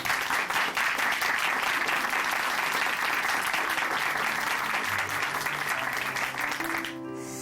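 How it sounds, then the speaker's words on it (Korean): A church congregation at Chuncheon Hanmaum Church claps in thanks after a testimony, a full, steady burst of many hands lasting several seconds before trailing off as a faint musical tone enters. "지혜 자매님께 다시 한번 감사의 박수 부탁드립니다"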